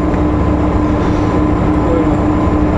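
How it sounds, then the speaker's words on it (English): A train passes a road crossing while a car waits, a loud continuous rumble with steady rolling noise and a faint tonal whine, heard close from inside the vehicle. "We gotta wait for a train, we gotta wait for a train."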